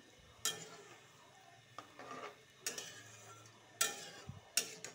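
Milk and water being stirred into a fish curry with potatoes in a pot, giving a few scattered clinks and scraping taps of a utensil against the pot, fairly faint and spaced out over a quiet background.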